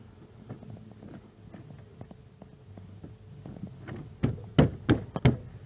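A power window motor is knocked into place inside a car door, with a run of light taps followed by four or five louder, close, dull thumps in quick succession near the end.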